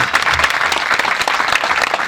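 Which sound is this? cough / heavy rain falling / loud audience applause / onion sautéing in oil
loud audience applause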